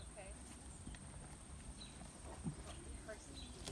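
Faint hoofbeats of a horse walking forward during trailer training, soft clip-clop steps at a slow, uneven pace against low background noise.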